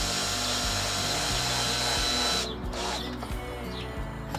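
A cordless screwdriver drives screws into wooden pallets while a raised garden bed is built, giving a loud, steady whirring motor drone with rhythmic pulsing that cuts off partway, leaving lighter clatter afterward.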